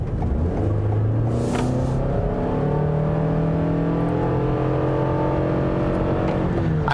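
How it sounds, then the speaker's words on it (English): A 2021 Toyota Sienna XSE hybrid minivan with AWD and a CVT accelerates hard from a standstill, its engine drone rising steadily and loudly in pitch throughout, with no talking. "now when my foot goes to the floor, I'm noticing that the Sienna is much more quick to kind of get off the line."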